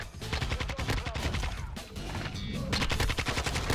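Rapid automatic gunfire from a Modern Warfare 2 multiplayer match, dense bursts of close shots with a brief pause midway before another sustained burst.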